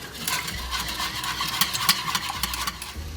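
A whisk stirs milk into a thickening sauce in a pan on an electric range, giving a steady close scraping and swishing with small clicks of metal against the pan, alone without talk.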